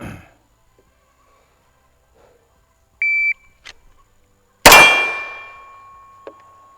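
A shot-timer beep is followed by a single loud, close report from a Staccato C2 pistol, and a steel target clangs with a bright ring that fades over a couple of seconds.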